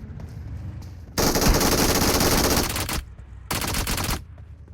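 Bursts of rapid automatic gunfire in a mobile video game played on an iPhone 11, loud and close, in two long volleys separated by a short pause, with a quieter background between them.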